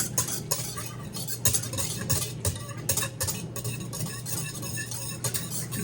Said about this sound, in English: Now you're going to just stir this until it's dissolved.